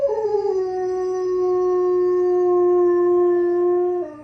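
Dogs howl at a distant siren in a long, sustained wail that wavers slightly in pitch, with a faint siren-like tone beneath, heard alone without speech.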